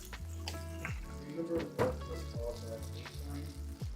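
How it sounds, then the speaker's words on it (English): Mushrooms and green beans sautéing in an olive and avocado oil mix in a pan, a steady close sizzle with stirring scrapes, under occasional talk. "I'm just gonna add some more oil to the pan with the mushrooms"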